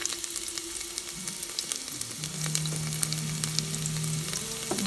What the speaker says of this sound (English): the first thing I'm going to be adding to the pot is some of my garlic